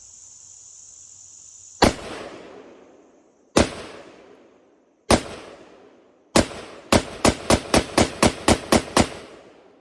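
Loud sharp rifle shots from an American Tactical AR556 outdoors, three spaced single shots followed by a quick string of about nine rapid shots, each with a short echoing decay.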